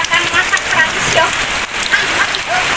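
Steady rain pours over an outdoor rural Sundanese village setting during wedding preparations, a loud, dense hiss of drops drumming on surfaces with faint voices underneath.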